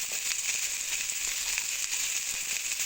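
Turmeric powder and salt added to hot oil with cauliflower already fried red, a steady close hiss and crackle of frying that continues evenly, no talking.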